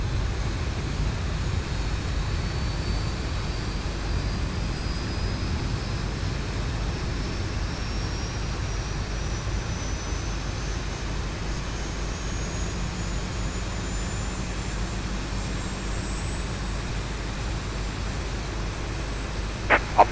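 Jet engine spooling up on a Boeing 737-800 in X-Plane 11, a steady broadband roar with a slowly rising whine that climbs through the start, then a couple of brief clicks near the end.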